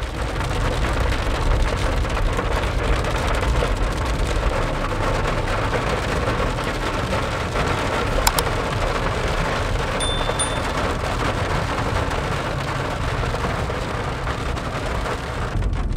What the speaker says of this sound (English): We are traveling in the rain once again in the Kruger National Park.